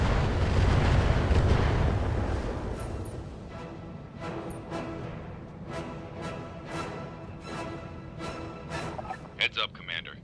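A mech blows up in the BattleTech video game: a heavy, rumbling explosion at the start, then a long decaying roar broken by a series of sharp crackling bursts, and a voice speaks over it.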